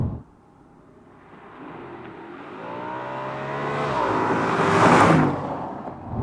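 A 2010 Audi RS5 V8 accelerating hard on a road, the engine note climbing steadily through the revs to a loud peak, then a brief dip as it shifts, with no talking.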